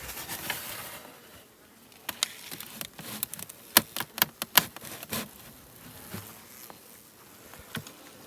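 Honeybees buzzing around an outdoor hive while a box is handled for winter insulation, a steady nearby drone with individual bees zipping past close and loud, plus light knocks and patter, with no talking.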